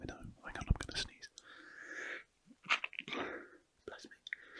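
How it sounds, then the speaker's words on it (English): A single muffled sneeze bursts out amid soft whispering during a doodling session, and the quiet whispered talk resumes right after. "Hang on, I'm going to sneeze."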